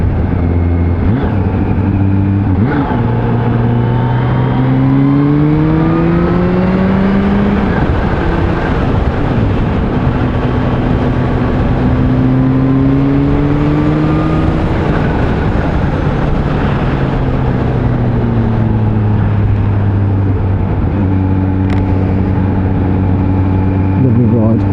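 A 2020 Kawasaki Z H2 hyper-naked motorcycle engine accelerating in third gear, its loud tone rising and falling through repeated pulls under heavy wind roar.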